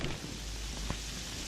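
Steady rain falling outdoors during a downpour, a dense continuous hiss with no talking.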